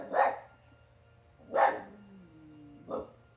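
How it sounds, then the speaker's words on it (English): Dogs bark at squirrels nearby: three separate loud barks spaced over a few seconds, with a quieter whine between the second and third. "Squirrels are tormenting my dogs."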